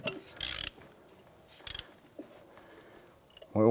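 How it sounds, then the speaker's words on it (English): Quick bursts of ratchet clicking as a bolt is snugged down on the CV axle of a 2008-2013 Nissan Rogue. Two short, loud, close runs of clicks, then a brief later burst, with quiet shop noise in between. "And then we'll go in with the ratchet."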